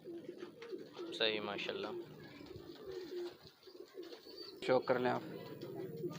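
A high flyer pigeon coos in a few short bursts, close and clear, while someone talks over and between the calls.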